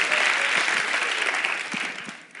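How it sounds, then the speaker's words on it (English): Sustained audience applause, dense and steady clapping from a crowd that fades slightly toward the end. "clap for them, man"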